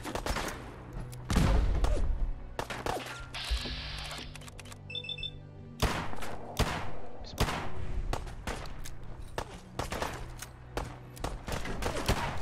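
Video game gunfire rattles in repeated sharp bursts and single cracks, loud and close, with brief gaps between volleys over about twelve seconds.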